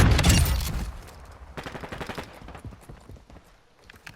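A loud burst of gunfire in the video game Call of Duty: Modern Warfare II opens, followed by several quieter rapid volleys of shots fading off, with no talking.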